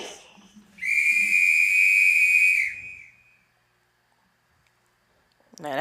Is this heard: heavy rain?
no